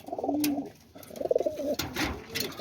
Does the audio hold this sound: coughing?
no